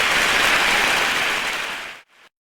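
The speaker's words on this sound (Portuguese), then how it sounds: "Quem é justificado, aplauda Jesus." Church congregation applauding in a steady, dense wash of clapping that stops abruptly, followed by a brief trailing patter.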